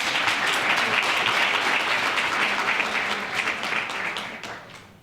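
Steady, full applause from an awards ceremony crowd holds strong at first, then gradually thins and fades toward the end.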